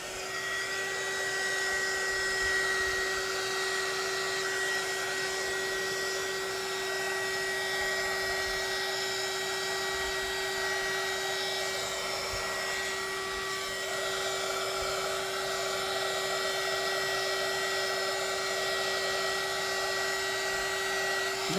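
A hair dryer blows steadily for about twenty seconds to dry coloring on paper, a close, constant whirring hum with a slight dip in tone partway through, with no talking.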